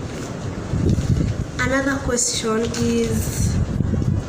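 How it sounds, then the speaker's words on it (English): Strong wind buffets a high-up room, a loud rushing roar with gusty low rumble that runs throughout while a person speaks over it. "the wind is really blowing"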